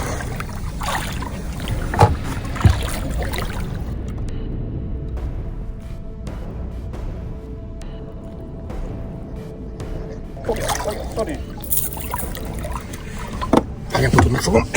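A leaking rowboat on the river Tisza knocks and sloshes near the microphone, with splashing water, creaking wood and wind noise, the clatter easing midway and returning toward the end.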